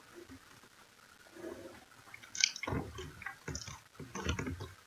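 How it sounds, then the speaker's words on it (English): Wet, squishy chewing of gum close to the mouth, soft smacks and clicks coming in uneven bursts that grow louder toward the end, with no talking. "Shouldn't really be chewing gum."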